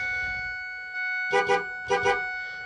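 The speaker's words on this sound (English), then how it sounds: "Horn works." A truck horn works again after a 1999-2007 clockspring replacement, giving a sustained steady tone with two quick double bursts over it, close and alone.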